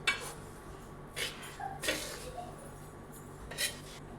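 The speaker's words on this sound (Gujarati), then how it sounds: "હવે તેમાં આપણે સુખડીને નાખી દઈએ" Wheat flour sukhdi, a soft Gujarati sweet, is scraped from a pan onto an ungreased plate, giving a few light metallic clinks and scrapes of utensil on dishware, quiet and spaced out over a low background hum.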